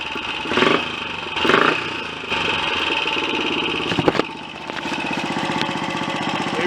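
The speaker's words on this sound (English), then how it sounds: "I'll start it up again without adjusting anything, and you'll see that the engine, after I give it some throttle, will race and take an age to slow down" A Royal Enfield Olympic 250 motorcycle engine runs close by, rising in two quick throttle bursts and then racing at a high, steady pitch before gradually settling toward a slower, lumpier beat, with a few sharp mechanical clatters along the way.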